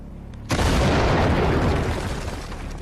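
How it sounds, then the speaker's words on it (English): A stone-ball cannon in a quarry, ignited by an electric spark, fires one sudden, very loud boom after a quiet moment, followed by a long roaring rumble that slowly fades. "The cannon blasts with unbelievable power."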